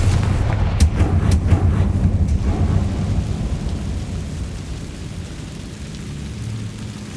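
In Hogwarts Legacy, Confringo blasting-spell explosions go off as a few sharp, heavy cracks early on, followed by a long, rolling rumble that slowly fades, with no talking.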